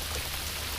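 Rain falls in Key West on the Atlantic side, a brief, even, continuous hiss of drops with no voices.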